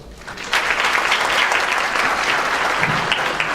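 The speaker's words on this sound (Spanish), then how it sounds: "Un aplauso de ustedes" An audience applauds at a legal conference on a Constitutional Court ruling, with steady, dense clapping that swells in after a quiet start and continues strongly throughout.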